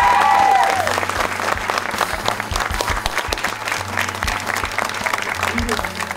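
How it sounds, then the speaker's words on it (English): An audience applauds loudly in a community coalition gathering, with dense steady clapping and some crowd noise throughout. "Let's give them another round of applause."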